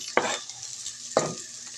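Garlic and onion sauté in a hot pan with a constant close sizzle, broken by two sharp utensil scrapes about a second apart.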